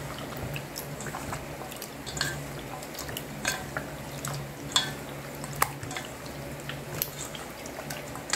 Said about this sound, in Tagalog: Tapos, haluin uli natin.